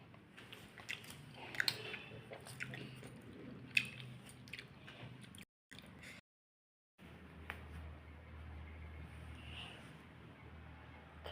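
People at a table eat a dinner of hot paratha with tomato curry and jaggery, giving quiet close chewing and soft bites with a few small clinks, faint and intermittent, briefly cut out midway, no talking.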